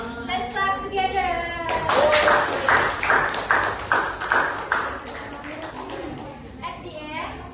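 A group claps together in a brisk burst of applause, close and lively, with children's voices chattering and cheering around it.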